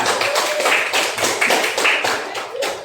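Audience clapping for a presentation group in a classroom: close, brisk clapping from a small crowd, continuing steadily without talk.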